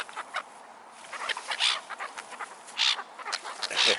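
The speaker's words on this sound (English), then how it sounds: "There's ducks all over the place." Ducks give short, quacking calls at a distance, scattered irregularly over faint outdoor background noise.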